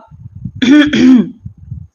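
A person clears their throat in a short, harsh two-part cough, loud and close, with soft breathy sounds before and after.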